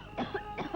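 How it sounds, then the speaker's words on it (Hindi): A woman coughs badly in a scene from a 1981 Hindi film, with a few quick, harsh, close coughs packed into under a second. "इतनी बुरी तरह क्यों खांस रही हो?"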